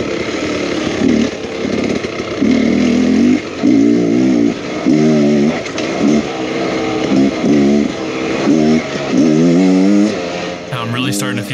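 A 2023 Beta X Trainer 300 dirt bike rides along a riverbed, its engine revving up and down in repeated surges, loud and close throughout.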